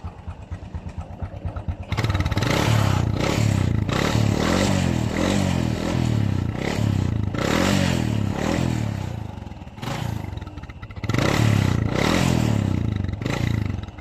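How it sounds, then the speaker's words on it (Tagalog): A Honda XRM 125 carbureted motorcycle engine with worn piston rings, burning oil and puffing white smoke: a quiet idle, then repeated loud revving bursts with clattering mechanical noise, dipping briefly before roaring up again, close by. "Panlarin natin para makita nyo ang problema ng kanyang makina."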